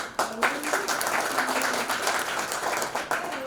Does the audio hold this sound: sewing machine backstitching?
no